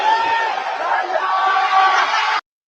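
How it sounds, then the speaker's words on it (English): A packed professional wrestling arena crowd erupts in loud, sustained cheering and whooping that holds steady for a couple of seconds and then cuts off abruptly. "And listen to the crowd pop."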